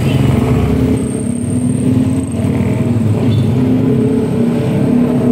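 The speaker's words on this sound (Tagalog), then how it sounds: "May dumadaang jeep dito." A jeepney passes along a village road near Natividad, Palayan, its steady engine rumble close and continuous for several seconds, with a faint whine drifting above the low drone.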